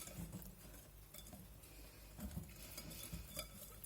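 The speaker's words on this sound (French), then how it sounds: "je récupère avec ma maryse tout le petit chocolat. Voici. Et je viens donc touiller" A spatula scrapes and stirs melted chocolate for a brownie in a bowl, producing soft, faint, irregular swishes and light taps close by.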